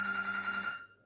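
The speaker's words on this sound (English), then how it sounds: "phone, it's ringing again and again" A phone rings in a tonal electronic trill that sounds once, holds steady for most of a second and then cuts off, heard alone and fairly clear.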